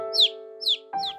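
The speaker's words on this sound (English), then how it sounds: "I heard a bird singing." Three short, bright bird chirps repeat at an even pace over a steady tonal hum, with the last one slightly rougher, all quite close.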